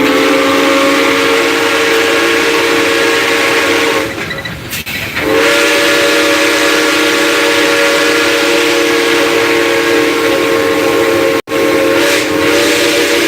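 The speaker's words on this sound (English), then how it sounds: "That whistle is magic." The steam whistle of Southern #630, a steam locomotive, blows loud and close in a long sustained chord. It breaks off briefly near the middle, then resumes, all over a background hiss of steam and no talking.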